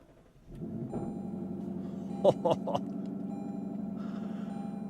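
The V8 engine of a 2026 Lexus LC500 convertible catches and settles into a steady, deep idle, with a few brief clicks and a light rev partway through.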